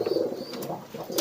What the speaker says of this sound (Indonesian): Ini untuk merpati jenis apapun.